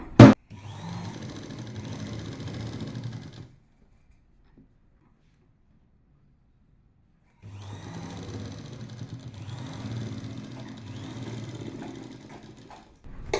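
Sewing machine stitching a half-inch seam on a dhoti salwar pant waistband, a steady close motor whir with rapid needle chatter that runs for a few seconds, falls silent, then starts up again.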